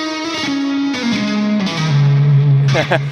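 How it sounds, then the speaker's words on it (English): Distorted electric guitar plays a sustained, bending melodic line, loud and upfront, with a gritty, saturated tone and a quick flurry of notes near the end. "So now I'm gonna add a little distortion"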